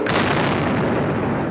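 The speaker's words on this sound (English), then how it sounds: "Cameras were rolling when at least 2 violent explosions erupted near the main grandstand of the Boston Marathon." An explosion near the main grandstand of the Boston Marathon, a sudden loud broadband boom that starts at once and stays dense and rumbling through the short burst.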